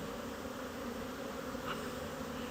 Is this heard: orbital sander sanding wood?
no